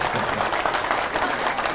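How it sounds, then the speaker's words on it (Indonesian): Audience clapping fills a religious lecture hall, a dense steady patter of many hands sustained throughout without a break. "tepuk tangannya kalau bisa serentak, kalau enggak usah sama sekali."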